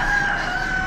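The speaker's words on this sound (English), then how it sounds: "Got a bunch of barred rock roosters." Barred Rock roosters at a poultry auction crow in a steady, sustained call that fills the short moment, loud and close with a faint barn murmur underneath.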